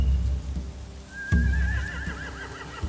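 Horses in The Walking Dead: The Final Season video game give a high, wavering whinny that rises and trembles over a dull game ambience, with a few low thuds and no speech.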